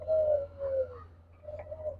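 Diamond doves on a breeding farm give soft, low cooing calls: two drawn-out coos, a short pause, then a further burst of cooing, fairly close and alone.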